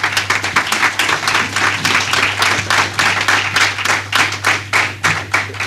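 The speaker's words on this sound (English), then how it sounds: "I really think she should stand, and you should give her a big round of applause." An audience at a women's appreciation ceremony bursts into applause, steady loud clapping with a rhythmic pulse that keeps going throughout, close and full.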